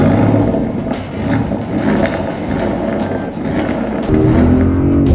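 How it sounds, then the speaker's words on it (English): A 2024 Porsche Cayenne E-Hybrid SUV with sports exhaust gives a steady, loud engine drone with a deep exhaust rumble that holds throughout and swells slightly toward the end, with no voices. "This car sounds so good with the sports exhaust"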